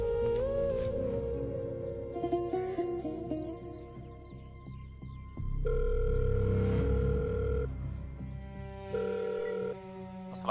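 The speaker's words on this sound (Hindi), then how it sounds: "मुंशी नंबर मिला एसएचओ दा।" A telephone in a police station is dialed and then rings, with steady electronic tones and shifting pitched beeps that sound close and clear, with a low rumbling background underneath and no talk.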